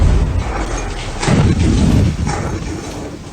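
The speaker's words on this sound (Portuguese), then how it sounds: "mostra a explosão na usina de CHPP-5 de Kharkiv, que foi filmado por um civil" A civilian recording captures an explosion at the Kharkiv CHPP-5 power plant: a loud, deep boom rolls in with heavy low rumble, sustained for about a second and then fading, under a noisy, distorted background.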